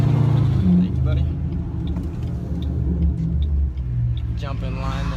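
A 2007 Ford Mustang GT with a Pypes straight-pipe exhaust rumbles loudly and steadily nearby, its deep idle running throughout while someone talks over it.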